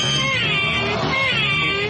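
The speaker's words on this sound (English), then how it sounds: "That's a cat." A cat meows loudly and continuously up close, a drawn-out wavering cry with no talking over it.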